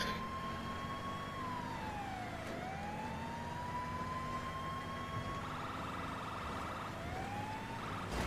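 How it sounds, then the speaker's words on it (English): A GTA video game police car siren wails steadily, sweeping up and down in pitch, with a brief switch to a rapid yelp pattern before returning to the wail. "lights and sirens"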